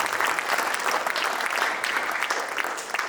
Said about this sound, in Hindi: आप भी तालियां बजाकर शुभकामनाएं दें।